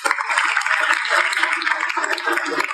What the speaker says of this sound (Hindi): दीदी में ताली बजाओ